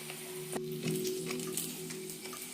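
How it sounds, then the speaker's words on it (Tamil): Hibiscus leaves fry in oil for a homemade hair oil, giving a soft, steady sizzle with faint bubbling and light stirring sounds, fairly quiet and without talk. "எடுத்தா மொறுன்னு இருக்கிற வரைக்கும் பொரியணும். நல்லா பொரியட்டும்."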